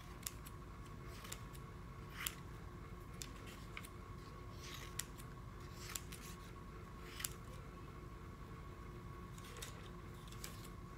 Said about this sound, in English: cut your piece of artwork into 12 to 16 pieces